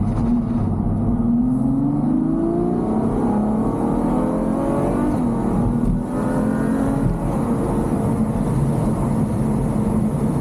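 A Ferrari 360 engine accelerates steadily from inside the car, its loud revving tone climbing in pitch through gears for about ten seconds with no talk.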